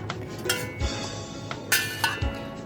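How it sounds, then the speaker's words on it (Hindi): A spoon clinks against a bowl as vegetables, garlic and spices are mixed for a pickle. There are a few sharp, close taps at irregular moments over soft stirring and scraping. "अब मैं सबसे पहले करूँगी तमाम चीज़ों को मिक्स, जितनी भी हमारी चीज़ें"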